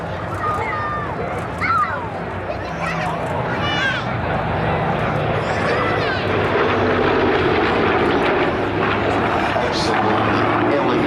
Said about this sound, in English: Coming back in again, the DC-6 from the left.